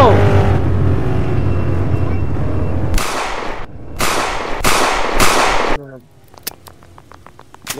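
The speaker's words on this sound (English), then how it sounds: "somebody's shooting" Loud close gunshots crack out in a rapid burst after an engine's roar, followed by a quick string of lighter sharp pops; voices talk nearby.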